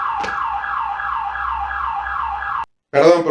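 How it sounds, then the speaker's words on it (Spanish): An alarm siren wails steadily in a repeating rising-and-falling pattern, loud and close, then cuts off abruptly and is followed by a brief burst of other noise. "hubo esta interrupción por la alarma esa que sonó"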